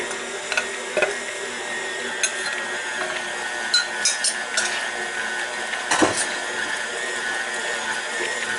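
An electric mixer beating chocolate chip cookie dough, a steady whirring motor whine with rattling clatter and ticks from the bowl.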